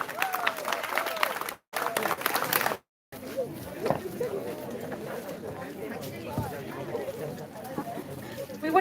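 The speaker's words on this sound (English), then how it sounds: "Big round of applause for all the parents" Crowd applause for the parents at a community Children's Day and Kannada Rajyotsava celebration, broken by two brief gaps, with steady clapping, chatter and voices mixed throughout.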